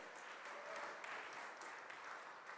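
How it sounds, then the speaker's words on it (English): An audience at a convention technical session applauds a panel with a steady, dense wash of clapping, distant and fairly faint, holding evenly throughout. "Let's give a resounding round of applause to this remarkable panel."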